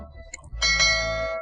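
A bell-like ring sounds alone as a call-to-action effect, a soft tap followed by a bright sustained chime with a ringing tail that slowly fades.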